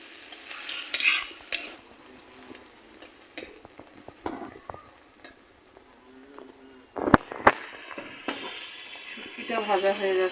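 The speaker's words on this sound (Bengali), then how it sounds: "শুটকিটা ভাজা হয়ে যাচ্ছে" Dried fish frying with chili, onion and garlic in a wok, faint sizzle with intermittent clinks and scrapes of a utensil stirring, louder clatter near the end, while a person talks softly.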